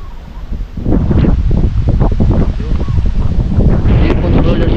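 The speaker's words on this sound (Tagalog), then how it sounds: "Tingnan nyo yung mga puno, malakas yung hangin." Strong wind roars loudly and close, buffeting the microphone in rough gusts with rustling leaves mixed into the continuous rumble.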